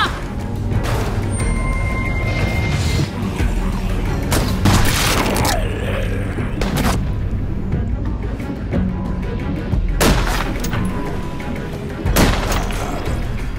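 Assault rifle gunfire in The Walking Dead: A New Frontier, loud sharp bursts and booms repeating across the scene amid game action noise.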